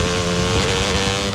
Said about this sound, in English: You wouldn't ride your dirt bike blindfolded.